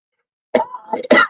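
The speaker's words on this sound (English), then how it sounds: "I know I'm going to cough a lot tonight." A few quick, harsh coughs close up, two short bursts separated by a brief pause, after a moment of silence.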